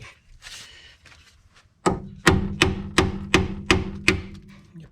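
Heavy hammer blows knocking a tie rod out of the steering sleeve on a 2007 Ford Escape, six sharp metallic strikes in a steady rhythm, close and loud, after some quieter handling sounds.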